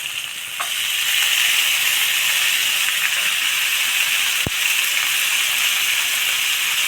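Shredded cabbage going into a hot pan for cabbage rice, giving a steady, loud steaming hiss that holds for several seconds, with a faint click near the start and a brief knock partway through.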